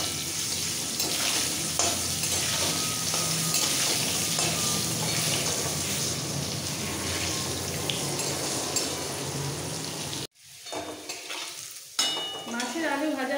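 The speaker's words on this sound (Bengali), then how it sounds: "এই মাছের আলুটা একদম লাল করে ভেজে নিতে হবে।" Potatoes for a katla fish curry fry in oil, a dense continuous sizzle with occasional stirring scrapes, close and loud for about ten seconds before the frying abruptly drops away into quieter kitchen sounds.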